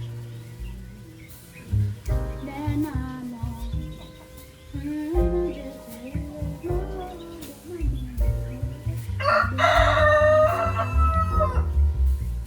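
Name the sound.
chickens and rooster crowing in a coop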